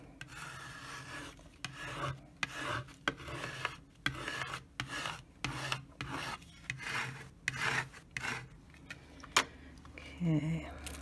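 Vinyl is rubbed down onto a Cricut bathroom sign with a burnishing tool, a close scratchy rasping in repeated back-and-forth strokes, with a quiet voice heard briefly near the end.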